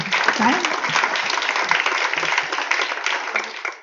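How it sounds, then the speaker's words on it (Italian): A conference audience at an Italian panel discussion on healthcare breaks into applause, a full, steady patter of many hands that starts strongly and slowly tapers off near the end. "Applauso micidiale."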